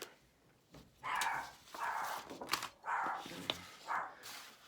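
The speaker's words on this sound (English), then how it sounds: "Sorry about the dog. The mailman must be out there." A dog barks at the mailman indoors, giving five separate muffled barks in a steady rhythm, moderately close but not loud, with no talk over them.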